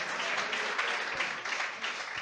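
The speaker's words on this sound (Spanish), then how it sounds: "Ahora levante un aplauso" Church congregation applauding together, a steady wash of many hands clapping at even volume through the whole moment, nearby and fairly loud.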